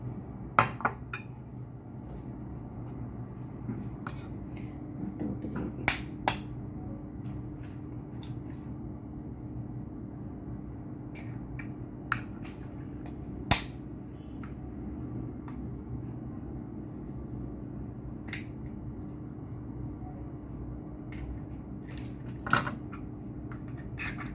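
Ginger, green chillies and onion cut for an egg omelette produce sparse, sharp knife clicks and taps at irregular intervals over a low steady kitchen hum.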